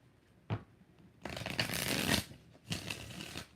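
Tarot cards shuffled in three bursts: a quick riffle, then a longer sustained shuffle and a final shorter run, close and fairly quiet with no talking.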